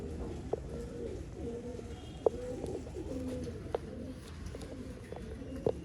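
Pigeons coo in soft, repeated low calls with a few sharper chirps, close by among old line pigeons being shown for sale in Bangalore.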